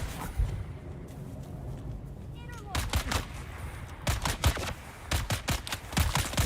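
Gunshots in the Dune video game, sharp cracks firing in quick clusters, a lone shot early then rapid bursts later, loud and close over a low background rumble, with brief talking.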